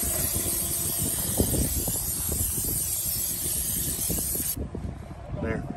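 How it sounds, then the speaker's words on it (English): An aerosol can hisses in a continuous close-up spray onto a motorcycle engine for several seconds, with faint rubbing and clatter underneath before it cuts off. "Just gonna spray it on."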